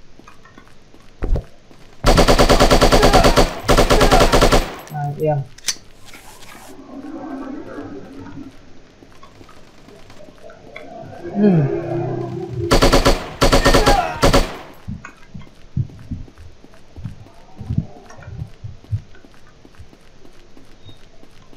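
Machine gun fire in the shooter game Striker comes in two loud, sustained bursts of rapid shots, with quieter game sounds and a faint voice in between.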